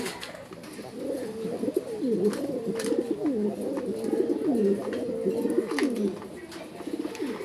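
Several pigeons coo in repeated low, rolling calls that overlap, with occasional sharp clicks and rustles nearby.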